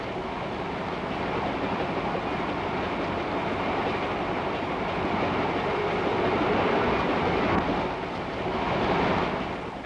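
A 1930s passenger train with a lounge car and diner rolls along the rails in a continuous, loud rumbling roar that swells slightly toward the end, heard alone on an old, noisy recording.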